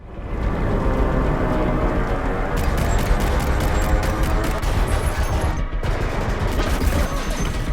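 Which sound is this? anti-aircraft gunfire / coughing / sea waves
anti-aircraft gunfire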